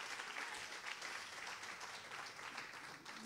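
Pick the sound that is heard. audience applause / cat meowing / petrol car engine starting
audience applause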